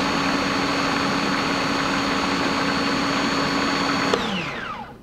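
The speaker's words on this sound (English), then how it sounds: "Process again. And really go on high speed to make it very," Food processor running on high speed, blending chicken liver pâté: a loud, steady whirring motor hum that holds for several seconds, then winds down as it is switched off near the end.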